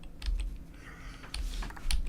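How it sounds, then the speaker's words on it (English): Someone presses the up arrow key on a computer keyboard again and again, giving soft, close clicks in an irregular rhythm under a low background hum, with no talk. "I'm just using the up key on my keyboard, just the up key"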